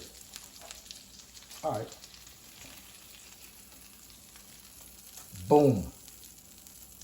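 Onions fry on a stove in a soft, continuous sizzle under casual talk, with two brief louder bursts of voice standing out.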